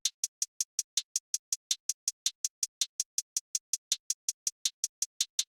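A two-step hi-hat pattern for a beat, played with bottom notes, comes through as a steady run of crisp, evenly spaced ticks at about four per second, with no voices.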